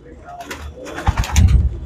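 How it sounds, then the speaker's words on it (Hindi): Pigeons coo softly in a breeder's loft of Punjabi and other fancy pigeons, low throaty coos and a few faint chirps heard close, with someone talking over them. "सुंदर कबूतर, देखने में बड़े प्यारे लगते हैं।"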